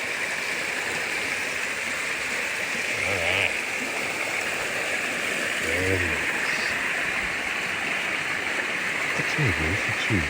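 A continuous rushing of a creek flowing nearby at night, with frogs around, and someone speaking briefly a few times over it.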